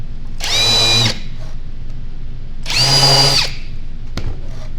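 Two short, high-pitched bursts of a drill countersinking screw holes in a wooden birdhouse, separated by a quiet gap, close by with no voices.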